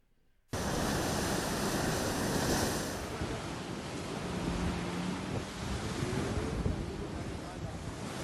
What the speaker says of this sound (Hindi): तेज हवाएं, बारिश और समंदर में उठती ऊंची ऊंची लहरें।